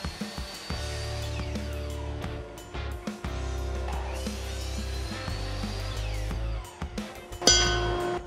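A miter saw fitted with a homemade dust collection hood drones steadily with its motor, broken by a few rising and falling cutting whines and a sharp clatter near the end, with no talking.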